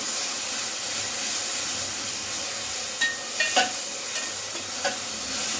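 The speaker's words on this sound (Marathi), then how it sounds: "कोथिंबीर आणि मिरचीचा ते पण टाकून देऊया। ते कच्चं आहे म्हणून जरा 5 मिनिटं त्याला पण थोडं 5 मिनिटं परतवायचं आहे।" Raw coriander and green chillies are sautéed in a pan for biryani, with a steady sizzling hiss and a few brief stirring scrapes near the end.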